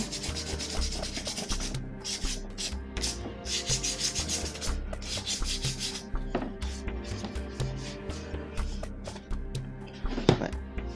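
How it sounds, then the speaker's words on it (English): Repeated rasping strokes of sandpaper rubbing on a wooden VZ-52 rifle stock, close and rhythmic, with brief pauses between bursts of back-and-forth scraping. "Just doing a nice little sanding."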